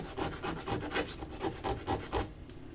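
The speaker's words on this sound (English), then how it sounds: "I am straightening out my cuts just by filing a little bit, or a lot." A hand file rasps across a pipe cut to straighten it, about a dozen quick rhythmic strokes, close and fairly loud, before stopping.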